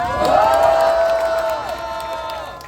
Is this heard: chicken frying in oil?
no